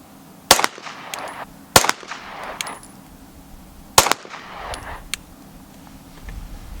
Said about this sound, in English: Our next 3 shots are going to be the Federal 115 grain FMJs.